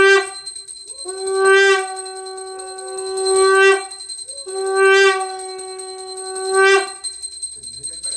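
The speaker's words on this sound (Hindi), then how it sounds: "हां ये बताया कि घंटी बजी है कि पूजा होगी" Temple bell rung during a Satyanarayana puja, sounding in four bright ringing bursts with long sustained tones that overlap one another, close and loud.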